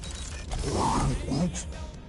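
A door creaks open in Marvel's Guardians of the Galaxy video game, a single slow, drawn-out creak over roughly a second, moderately loud, with a voice heard faintly around it.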